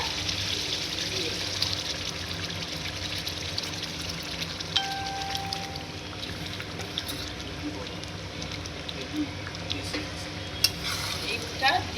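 Mutton being stirred and fried in a spiced masala that has been cooked down in oil, with soft sizzling and the scrape and clink of stirring at close range under a voice speaking.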